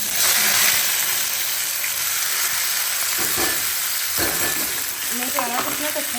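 Tempering (tadka) for saag sizzling in a hot pan with oil, a steady loud frying hiss throughout, with brief stirring clinks and crackles near the end.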